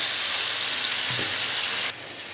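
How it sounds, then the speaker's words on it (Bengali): Goat meat with fried onions and whole spices sizzles hard in hot oil, a dense steady crackle with a brief low knock midway, then dropping quieter near the end, no talking. "এখন আমি গোষ্ঠটা খাসির গোষ্ঠটা দিয়ে দেবো"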